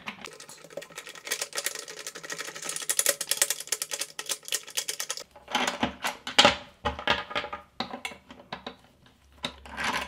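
Screws being backed out of a toilet seat's hinges, heard as rapid close clicking and ratcheting that pauses briefly, then resumes as a sparser run of sharp ticks and light metallic taps.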